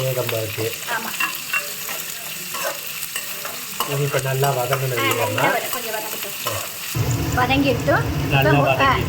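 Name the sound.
frying dried red chillies with salt in a pan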